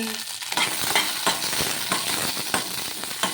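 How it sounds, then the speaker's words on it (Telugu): Green chillies frying in oil in a pan for ladies finger rava dosa, a continuous close sizzle with regular stirring scrapes and clatters. "పచ్చిమిర్చి కూడా వేసుకొని వేయించుకుందాము కొంచెం నూనె అయితే వేసుకొని మగ్గించుకోవాలి"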